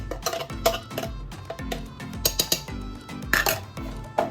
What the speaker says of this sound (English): Just a little bit of a stir, just to make sure all those grits are mixed in with the liquid and they're not like stuck to the bottom